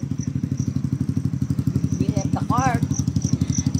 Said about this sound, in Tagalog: Daming motor, grabe.